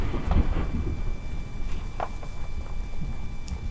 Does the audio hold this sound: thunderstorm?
yes